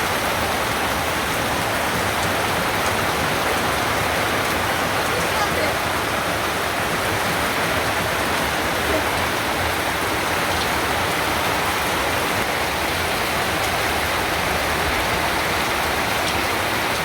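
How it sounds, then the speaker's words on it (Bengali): Heavy rain pours down continuously in a dense, even hiss on the ground and surroundings, loud and close throughout with no pauses. "দেখেন কি পরিমাণ বৃষ্টি নামছে"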